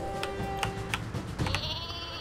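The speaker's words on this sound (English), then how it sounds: "I guess I can do a super sheep" A super sheep weapon in the Worms WMD video game bleats several times in quick, wavering cries, loud and close, over a steady game background.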